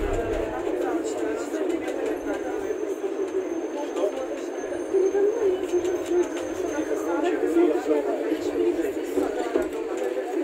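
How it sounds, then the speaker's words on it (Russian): Tram number 18 riding through Odessa, a continuous rumbling ride with rattling wheel clatter heard from on board, while a voice talks throughout. "18-й трамвай идет от станции Куликово поле."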